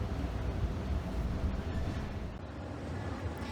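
Steady low rumble of an airport people-mover train running at Washington Dulles International, continuous and close with wind-like noise throughout, no talk.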